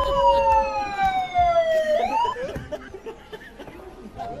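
A police siren wails loudly in a comedy film, its pitch sliding down and then sweeping up before fading, with brief background voices and laughter around it.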